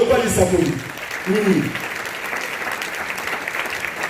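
A church congregation breaks into applause, clapping that swells briefly under a voice and then fades into a diffuse, softer patter of hands.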